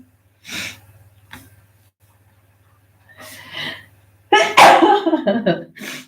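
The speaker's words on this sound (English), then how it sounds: "I'm going to sneeze, excuse me." A single loud sneeze bursts out after quiet stretches with a few soft breaths, followed by brief trailing breath sounds.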